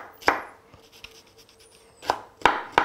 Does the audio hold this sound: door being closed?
no